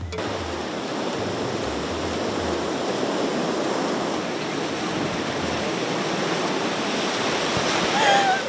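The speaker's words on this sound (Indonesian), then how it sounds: "Yang namanya ombak yang besar yang kita harus mundur" Big southern-sea waves crash against slick, pitted coral rock, a loud, steady broadband roar of surf and spray up close with no pause.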